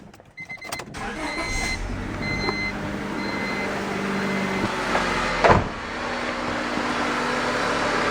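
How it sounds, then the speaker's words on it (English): A 2000 Honda Civic engine starts and idles steadily after a fresh oil change, recorded close up; the start cranks through brief clicks, a short clunk comes midway, then a constant running drone. "start up the car and look for leaks"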